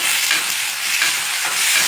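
Tomatoes fry in a pan with onion and green chili, giving a steady, close sizzle and hiss that holds even throughout with no voices.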